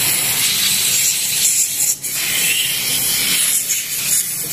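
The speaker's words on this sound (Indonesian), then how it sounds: "Kita semprot sambil digosok-gosok nanti pakai sikat." Cleaner sprayed in bursts onto parts of a 1971 Honda C70 motorcycle, a close, loud hissing spray that runs almost continuously with one brief break.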